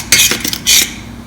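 A metal spoon stirs sprouted fenugreek pickle in warm oil inside a pan, giving two short bursts of scraping clinks with a few light taps between them, close and alone.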